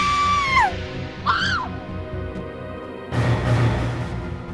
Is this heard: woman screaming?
yes